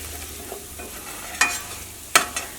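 Spice powders frying in a pan for chicken, a soft, low sizzle broken by a couple of brief scraping stirs.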